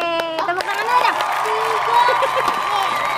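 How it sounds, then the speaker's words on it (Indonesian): Children's clapping and cheering at a playful color-learning session, a lively burst of crowd noise with excited voices and claps blending together close by for a few seconds. "Tepuk tangan dulu dong."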